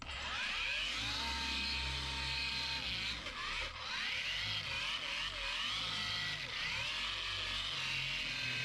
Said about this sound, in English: you can hear the sound of the polisher